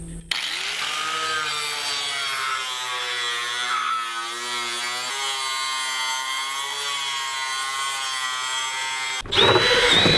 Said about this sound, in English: with the angle grinder